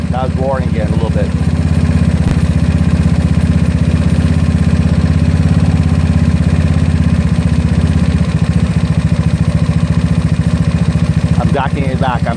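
Close, loud GY6 scooter engine with an OKO PWK 30mm carburetor idling in a steady, even putter throughout, with brief bursts of speech near the start and end.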